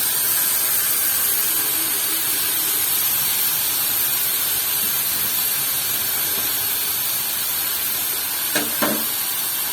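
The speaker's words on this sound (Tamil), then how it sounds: "ரெண்டு பெரிய வெங்காயம், 2 பச்சை மிளகாய், ஒரு தக்காளி இதை போட்டு நல்லா வதக்கிக்கோங்க." Onions, green chillies and tomato sizzle in a pan for egg podimas, a loud, steady hiss that continues unbroken, with a brief utensil clatter near the end.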